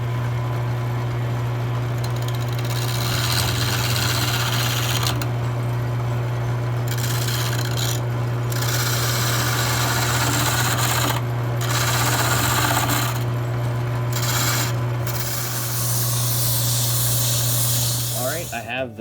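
A wood lathe hums steadily while a gouge scrapes and hisses against spinning wood in repeated passes, with brief pauses between cuts.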